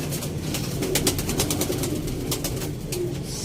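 Sialkoti red-pearl pigeons coo in low, rolling murmurs, close by and continuous, with light clicks and rustles over the top and no one talking.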